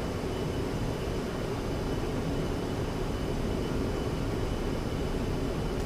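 Steady, dense roar of a jet aircraft engine held at full throttle through a takeoff roll in the DCS World flight simulator, a continuous loud broadband rush with no breaks and no voices.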